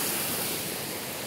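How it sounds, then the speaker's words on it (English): Small waterfall on a stream in Oahu, a steady broadband rush of falling water, close and continuous with no break and no voices. "This might be a cute little waterfall"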